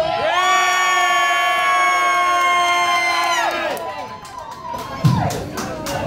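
An evening air guitar contest crowd cheers loudly and continuously for contestant Aston, a sustained mass of voices and whoops with a siren-like rising and falling tone that breaks into scattered shouts near the end.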